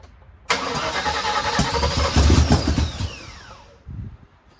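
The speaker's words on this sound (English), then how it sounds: "Because it's starting to pop through the carburetor." A 1979 Chevrolet Malibu project car's engine cranks and catches with an abrupt loud burst, then runs roughly with irregular pops back through the carburetor as if the timing were off, before dropping away near the end.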